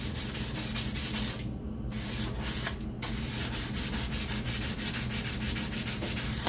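Sandpaper rubbing back and forth on wood for a spice rack, close and steady in quick repeated strokes, with two short pauses partway through.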